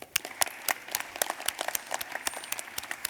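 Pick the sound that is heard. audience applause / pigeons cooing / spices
audience applause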